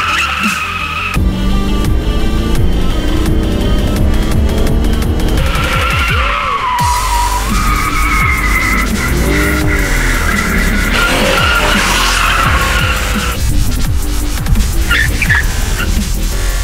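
A Mercedes E420 with a 4.2-litre V8 roars hard under full throttle, engine revs rising and falling through gear changes while tires squeal and skid loudly and close throughout.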